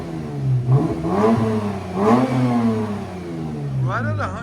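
A Lexus RC 350 F-Sport's exhaust revs in several rising and falling sweeps, close and moderately loud, with a quick final blip at the end and a voice speaking over it.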